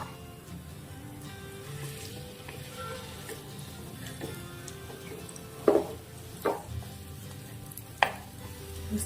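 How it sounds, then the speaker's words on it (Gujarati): Dates roasting in hot ghee in a pan make a low, steady sizzle with stirring scrapes, and a few sharper clatters of the spoon against the pan stand out near the end. "ઘી ગરમ થઈ જાય એટલે આપણે ખજૂર નાખીશું."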